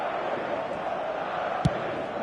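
A football stadium crowd in a football video game keeps up a steady, dense roar with a brief sharp knock partway through, heard throughout without a break.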